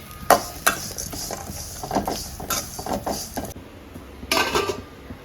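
Cashews tipped into a frying pan and stirred, with a series of sharp scraping and clinking strikes of a spoon against the metal pan, close and fairly loud, bunched in irregular bursts with a faint sizzle beneath.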